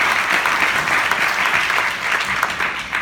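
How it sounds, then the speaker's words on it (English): A business event audience applauds two panel guests with loud, sustained, dense clapping heard close, with no talk over it. "can you give another round of applause to Aaron and Brittania?"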